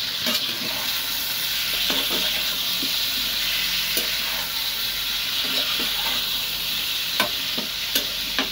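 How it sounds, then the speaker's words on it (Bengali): Potatoes and chicken stirred together while frying in a pan for khichuri, a steady close sizzle with scraping spoon strokes and clicks at irregular intervals, no voices. "দেখো এবারে একসাথে আলু আর চিকেনটাকে নাড়াচাড়া করে"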